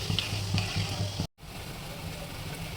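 Gulab jamun sizzle and bubble in hot oil with ghee, a close, steady frying crackle with a brief drop to silence midway before the sizzling resumes.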